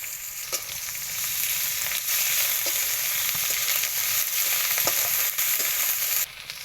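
Green chili and ginger-garlic paste frying in hot oil, a steady loud sizzle with scattered crackles and pops throughout, no talk.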